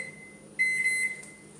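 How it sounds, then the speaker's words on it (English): A microwave oven heating an egg in a bowl gives off a faint hum, then a steady electronic tone starts partway through and holds for about half a second before fading. "we're gonna put it in the microwave for 1 minute"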